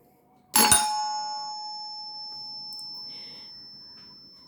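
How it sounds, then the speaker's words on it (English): An electric bell rings once during a working test, a sharp metallic strike followed by a long, clear ringing tone that slowly fades, close and alone. "First we will check if the bell is in working condition or not."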